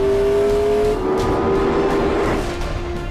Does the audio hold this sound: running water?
no